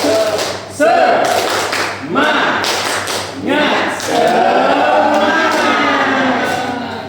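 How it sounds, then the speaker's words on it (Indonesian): A class of students does a rhythmic 'tepuk semangat' clapping chant in a school classroom, loud patterned claps and taps in bursts mixed with chanting voices close by. "kita akan tepuk semangat ya. Tepuk semangat."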